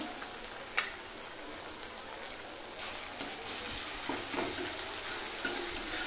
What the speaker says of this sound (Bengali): সমস্ত মশলাগুলোকে আর একটু ভেজে নেব।